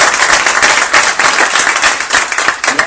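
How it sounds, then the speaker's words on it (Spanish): An audience at a talk on adolescent conflicts held at a secondary school applauds, a dense, steady patter of clapping hands that fills the whole moment with no one speaking over it. "Entonces me gustaría empezar dándole un aplauso a Sonia."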